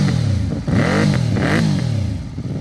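A Benda Darkflag 500 V4 motorcycle with a 500 cc engine revs loudly and close, its pitch sweeping up and down through several throttle blips over a steady idle.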